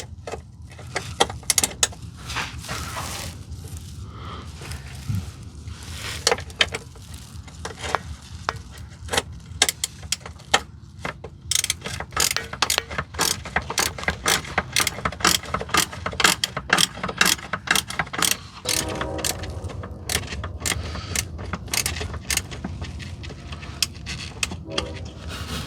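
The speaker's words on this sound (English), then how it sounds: "Just unbolt this cover." Metal bolts are unbolted from a component cover with a wrench: a steady run of quick ratcheting clicks and small metallic taps, close and fairly loud, with no talking.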